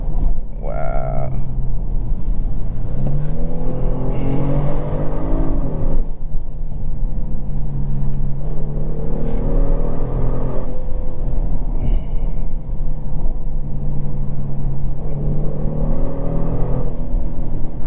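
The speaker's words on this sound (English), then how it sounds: "It's like a whoosh noise off the exhaust system." A 2022 Genesis G70 3.3T Prestige AWD accelerating hard, its active exhaust giving a steady loud whooshing drone with rising engine tones that swell and fall repeatedly, heard from inside the cabin.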